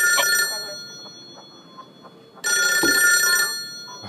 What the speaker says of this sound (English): Oh, come on, just answer it, dude. I hate a ringer phone.